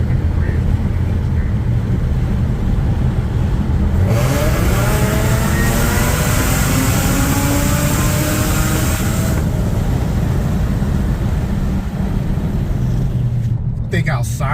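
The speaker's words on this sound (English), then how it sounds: "here's a pull with the windows down" Supercharged Audi A6 3.0T pulling hard with the windows down, a loud raspy exhaust roar climbing steadily in pitch through the run, close and sustained, with a rising whine layered over the engine note.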